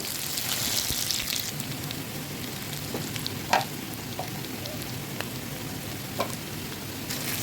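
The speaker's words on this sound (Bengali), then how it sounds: "পেঁয়াজগুলোকে হালকাভাবে একটু ফ্রাই করে নিচ্ছি এখানে" Onions frying lightly in a pan while a chicken dish is being cooked, giving a steady soft sizzle with a few sharp pops and clicks throughout, fairly quiet and close.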